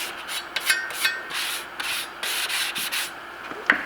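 A plaster trowel, left dirty after a Venetian plaster sample, is scraped clean in quick rasping strokes, a series of close, brisk rubs with short pauses and a sharp tap near the end, no voices.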